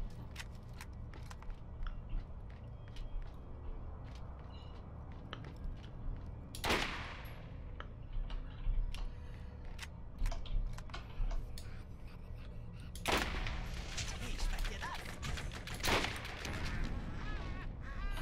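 Gunfire from a powerful weapon in the Borderlands video game, with a couple of sharp, loud blasts standing out over a busy bed of game noise and scattered smaller shots.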